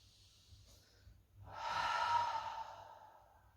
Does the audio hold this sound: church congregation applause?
no